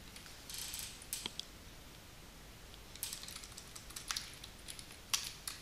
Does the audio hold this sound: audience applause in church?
no